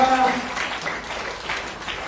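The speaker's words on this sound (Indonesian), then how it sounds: "Yang percaya berikan tepuk tangan bagi Tuhan kita." Church congregation clapping in praise during a sermon, a moderate, fairly even burst of applause with some crowd voices mixed in.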